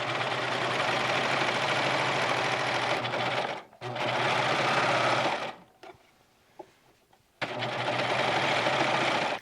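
A sewing machine stitches a set-in sleeve seam on a button-up shirt, running loud and close in long steady bursts, stopping briefly twice with quiet gaps and small clicks before starting up again.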